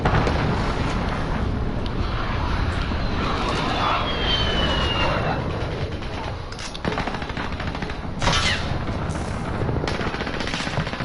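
Enemy VTOL aircraft in a Call of Duty team deathmatch, its engine roar blending with sustained machine-gun fire and bursts of gunfire, loud and continuous throughout.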